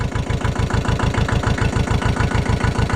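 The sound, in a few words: Allis-Chalmers 5020 tractor engine idling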